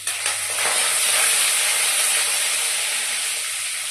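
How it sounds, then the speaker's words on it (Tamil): A bunch of curry leaves hits hot oil for an anchovy fish curry, giving a loud, close, continuous frying hiss and crackle that stays strong for a few seconds. "ஒரு கொத்து கருவேப்பிலை ஒரு கொத்து அதையும் சேர்த்துடலாம்."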